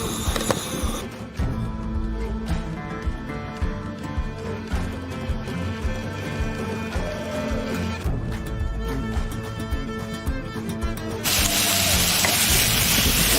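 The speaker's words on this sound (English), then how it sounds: "That sizzle." Steady, loud sizzling of vegetables frying in a hot pan, continuous crackle throughout, growing brighter and hissier near the end.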